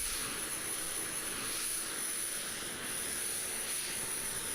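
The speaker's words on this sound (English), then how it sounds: "And let's get left engine starting." Simulated F-22 Raptor jet engine spooling up during an engine start at RAF Coningsby in a flight simulator game; a steady, loud broadband roar with a high whine held throughout.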